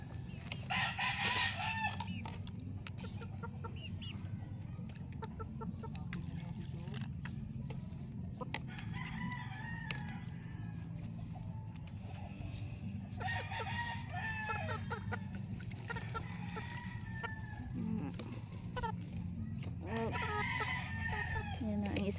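Pet chickens cluck steadily while roosters crow repeatedly at mid distance, several drawn-out crows spread across the stretch, with people talking now and then.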